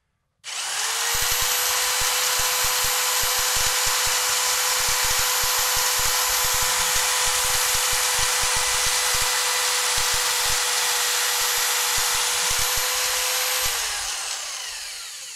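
A power drill whines loudly and steadily for about thirteen seconds at a constant pitch while drilling into a wall for a wall plug, then winds down as the trigger is released.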